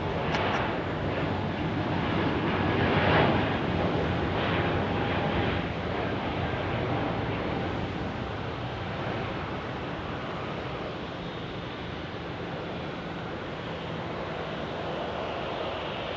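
An Embraer E195-E2 airliner at Phoenix Sky Harbor produces a broad, distant jet rumble that swells early and then settles into a steady, slightly fading roar, with no talk.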